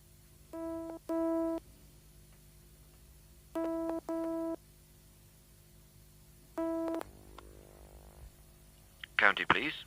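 A telephone rings on the line in paired electronic bursts, three double rings separated by silence, followed by a click and a brief clatter.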